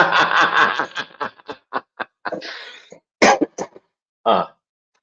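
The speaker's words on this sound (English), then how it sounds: "I'm coughing and choking here" A run of harsh coughs and throat clearing from a person ill and on antibiotics, bursts of rough breathy choking sounds broken by short pauses, loud and close with no speech.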